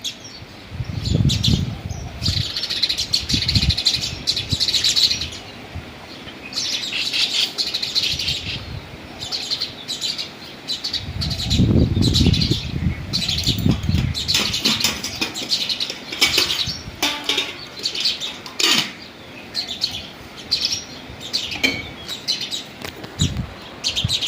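A flock of sparrows at a rural Gujarat farm keeps up busy, overlapping chirping nearby, broken by repeated bursts of wing flapping and fluttering throughout.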